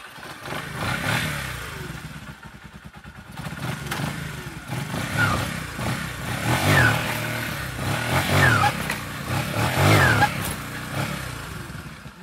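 A Yamaha YBR motorcycle engine runs steadily at idle during a clutch adjustment test, a close mid-pitched putter with a few light clatters and small rises over about twelve seconds.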